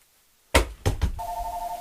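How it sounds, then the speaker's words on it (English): A telephone handset, with a few sharp thuds followed by a steady electronic tone, close and fairly loud, with no voices. "If the phone's ringing and I'm not expecting it to be anybody"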